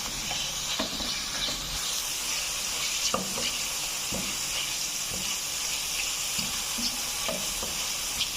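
Small chicken cubes fry in a pan for a Pakistani-style chicken macaroni pasta, giving a constant bright sizzle with occasional soft clinks and stirring knocks, fairly quiet and even throughout.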